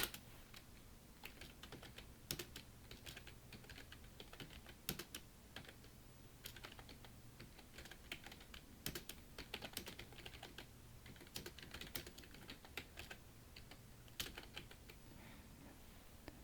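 Steady typing on a computer keyboard while entering Korean text in PowerPoint, a continuous close patter of key clicks with occasional louder strokes, no talking.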